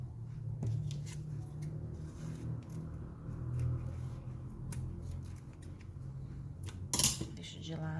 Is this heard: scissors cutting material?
yes